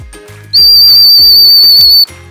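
A dog training whistle sounds one sustained shrill blast for a sit command, close and loud, lasting about a second and a half over faint rhythmic background knocks.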